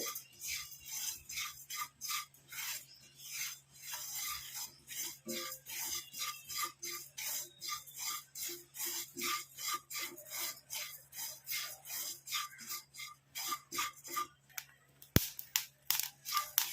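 Dry ingredients mixed with coffee powder being roasted and stirred in a pan, giving a steady run of scraping, rasping strokes of a spoon against the metal, fairly close, with no talk over it.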